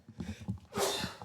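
One person sneezes, a short breathy intake followed by a sharp, loud burst, heard alone and close.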